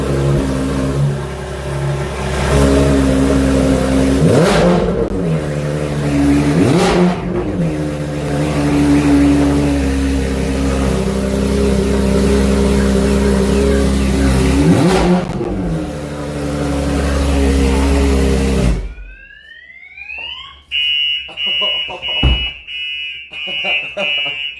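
A Porsche GT3 RS engine roars and revs repeatedly in surges at cold start for about twenty seconds, then cuts off, followed by a high electronic beeping alarm tone.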